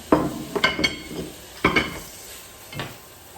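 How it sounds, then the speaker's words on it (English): Tomatoes dropped into a hot pan for Espanyol brown sauce, a few sharp sizzling bursts with scraping and clinking of a utensil against the pan, close and fairly quiet, with pauses between. "So I'm going to add the tomatoes in there now, like so."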